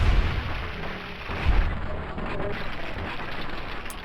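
A single headshot gunshot in Fallout New Vegas, a dull low boom near the start followed by a second thump around the middle, set against steady game background noise with no talk.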